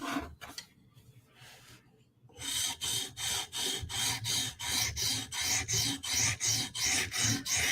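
A knife blade is sharpened on a 150 grit stone in a TSProf Kadet system: a few scattered scrapes, a pause, then regular rhythmic rasping strokes, close and fairly loud.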